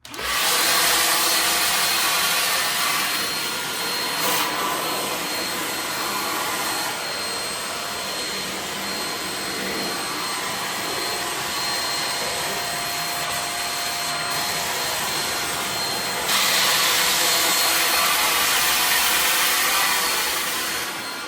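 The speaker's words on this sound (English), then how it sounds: "now I'm gonna do it for my ceiling to show you guys how easy it is and versatile this vacuum is" A Shark HV301 Rocket corded vacuum runs steadily while cleaning a ceiling, giving a loud, continuous high whine with slight shifts in pitch and no talking.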